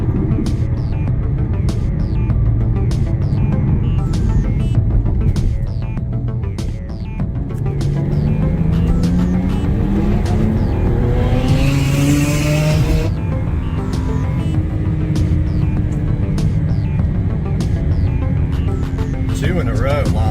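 A race car accelerates hard during a run, its engine rising through rapidly climbing pitch sweeps and shifts, loud and close.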